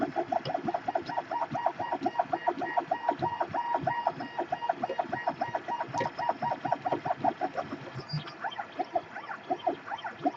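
A 3D printer prints a calibration cube at very high speed, its motors buzzing in quick repeating pulses while a wobbling spool mount lifts and knocks. The sound is moderately faint and unbroken, with no voices.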